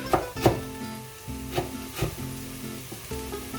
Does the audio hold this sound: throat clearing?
no